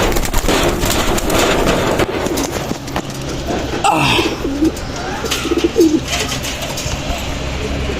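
Racing pigeons cooing at their loft after a 13-kilometre toss, with soft coos among busy, steady background noise and bursts of rattling clatter.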